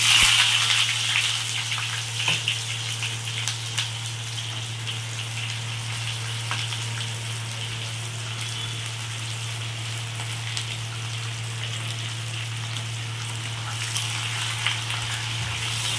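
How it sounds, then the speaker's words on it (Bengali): Onions frying in a pan over turned-up gas heat for khichuri, a steady dense hiss of sizzling oil running throughout, close and even with no talk. "গ্যাসটিকে বাড়িয়ে দিয়ে আমি পেঁয়াজগুলো ভালো করে ভেজে নিচ্ছি"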